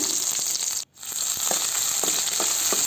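Onions and curry leaves fry in hot oil in a pan, giving a steady, close, bright sizzle with small crackles, broken once by a brief silent gap.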